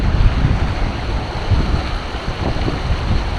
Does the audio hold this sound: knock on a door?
no